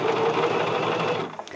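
A four-step buttonhole sewing machine runs in a fast, steady mechanical whir as it stitches a buttonhole, close and continuous before winding down with a few faint clicks.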